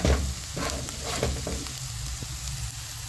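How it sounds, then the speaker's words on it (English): Githeri frying with onions in coconut oil, a loud continuous sizzle and crackle with a few stirring scrapes, close and steady, no voices. "Let us fry our githeri."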